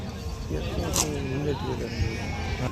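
Sheep bleat at a busy weekly sheep market in Gudur, Nellore, with wavering calls rising over a steady crowd murmur while people talk nearby.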